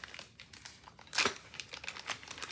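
A plastic bag holding a diamond painting toolkit crinkles close up in short, scattered rustles, with one louder crumpling burst in the middle.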